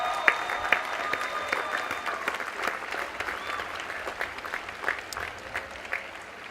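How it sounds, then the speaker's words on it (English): Steady applause from a large audience at a College of Science commencement ceremony, many hands clapping continuously for over six seconds with some louder individual claps near the front. "Please give them a round of applause."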